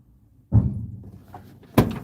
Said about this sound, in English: Why does he keep kicking my car?